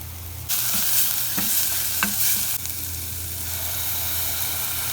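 Turmeric, garlic, cumin and coriander sizzle in a hot pan while a utensil stirs them, giving a steady frying hiss broken by a few scraping knocks against the pan.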